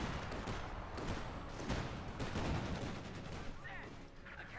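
A pack howitzer fires in the Company of Heroes 2 strategy game, sharp artillery booms and crackling gunfire layered in a dense, busy battle soundscape.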